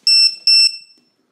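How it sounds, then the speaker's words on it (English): A LiPo battery alarm on an electric scooter conversion gives two sharp, loud, high-pitched beeps in quick succession, then falls silent. "Make sure the alarm is plugged in to the LiPo batteries."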